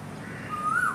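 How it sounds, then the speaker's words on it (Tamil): A koel, a type of cuckoo, calls once out in nature: a single rising clear whistle over a soft outdoor background, moderately near and standing alone without talk. "குயில் கூட ஆமான்னு சொல்லுது."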